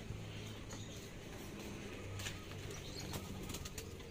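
Pigeons being fed rice at a loft, wings flapping in short bursts with faint cooing and pecking, low-level and continuous in the background.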